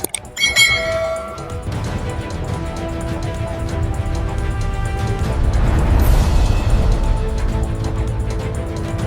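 A bright bell ding strikes at the start and rings out briefly, followed by a low rumbling music bed that builds steadily underneath.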